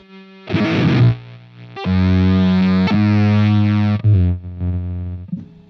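Several sustained, heavily distorted electric guitar notes played through Guitar Rig effects ring out with a chorus-like shimmer, each held for about a second before changing.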